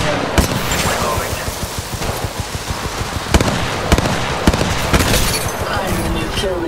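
Rapid bursts of automatic gunfire in Apex Legends, dense and loud, with sharp individual cracks standing out over a continuous din of combat and voice chatter.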